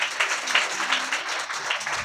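A church congregation clapping loudly in a dense, continuous burst of applause with rhythmic peaks, no talking over it.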